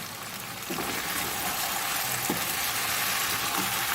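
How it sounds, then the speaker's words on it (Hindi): Tomatoes go into a hot pan of mutton karahi masala, and a loud, steady sizzle jumps up as they hit the oil, then keeps hissing close by with faint stirring scrapes. "अब इसमें ऐड करूँगी जी मैं टमाटर"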